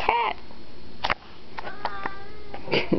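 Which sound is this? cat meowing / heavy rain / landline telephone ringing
cat meowing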